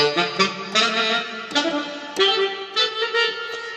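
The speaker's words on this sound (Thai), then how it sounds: "เสียงเทนเนอร์แซก" A Korg keyboard plays a tenor-saxophone-style tone, a series of reedy, sustained notes with distinct attacks, loud and close with no talking.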